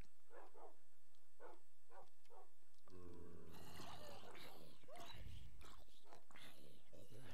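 Pet dogs in a Minecraft-style video game bark in short, evenly spaced yips, followed by loud, chaotic game noise and a person talking over it.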